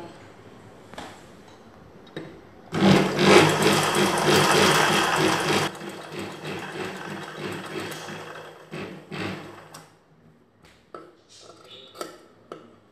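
A sewing machine stitches a lining piece onto a blouse piece up to the neckline in one loud burst of about three seconds, followed by quieter handling sounds and faint ticks.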